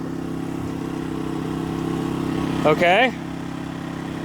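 A van engine fires up and settles into a steady, loud running drone, briefly revving with a rising whine near the end while someone says a short word over it.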